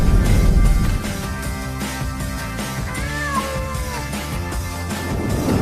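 A cat gives a short, rising meow beside an automatic pet food feeder, heard over steady background music.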